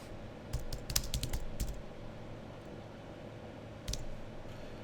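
Someone types on a computer keyboard in quick bursts of close, crisp key clicks, a cluster of rapid taps followed by silence and then a short second burst, with no talking.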